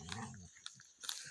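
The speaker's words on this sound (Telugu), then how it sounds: "రెండు కుక్కల మధ్య యుద్ధం జరుగుతుంది." Two dogs fight in a mango garden, with short snarls, growls and snapping yelps packed into a quick, faint scuffle.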